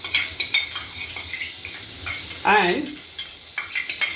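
Garlic, ginger and green chilies cooking slowly in a pan over a low gas flame, soft sizzling with repeated spoon scrapes and stirring clinks, one brief louder scraping sweep midway.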